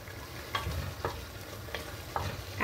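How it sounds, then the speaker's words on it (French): Curry with a spoonful of tomato paste cooking in a pan, with several soft stirring scrapes spaced about half a second apart over a low, steady sizzle, close and moderately loud. "Et on laisse mijoter comme ça."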